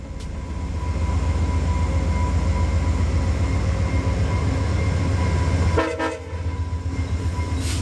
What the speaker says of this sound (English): Train 41 rolls on towards Toronto, the engineer giving us a couple horn blasts on their way out